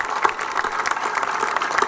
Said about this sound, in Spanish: Yo quiero que le demos un aplauso